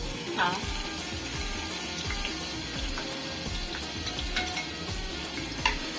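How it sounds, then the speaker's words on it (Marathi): Garlic sizzling in a frying pan, a steady broadband crackle with occasional stirring scrapes and faint clinks, fairly close and continuous, with no talk over it. "आता मी हे फ्राय पॅन मध्ये लसूण टाकत आहे"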